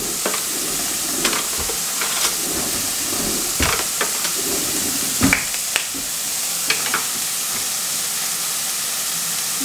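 Rice stir-fried in a pan with meat and its fat for crisp, loose Japanese fried rice, with a steady sizzle and repeated scraping clacks of a spatula or ladle against the pan. No one speaks.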